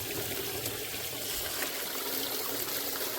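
A water pump feeding a gold sluice runs steadily while sucking air, giving a constant rushing, trickling wash of water with no breaks.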